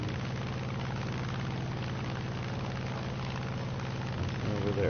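An XP-38G aircraft's engines in a PS4 flight combat game drone steadily as a dense, even propeller roar, with a brief rise in level near the end and no talk over it.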